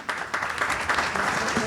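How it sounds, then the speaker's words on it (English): Audience applause at a tech panel event, a steady burst of clapping lasting under two seconds and filling the room at moderate loudness. "a round of applause"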